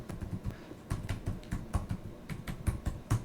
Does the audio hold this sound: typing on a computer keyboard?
yes